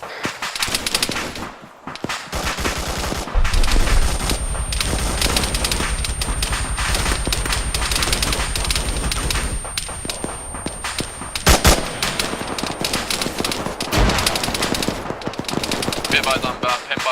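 Sustained machine gun fire in the shooter game Modern Warfare, loud, dense automatic bursts rattling on for several seconds amid other gunshots and battle noise, with voices heard faintly in the mix.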